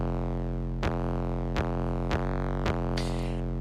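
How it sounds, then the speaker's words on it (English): Heavily saturated, distorted 808 bass in a final mix, a thick sustained low drone broken by four sharp re-triggered hits about once every second, with a hissy layer added near the end. "again, I had the super distorted 808 here at the beginning"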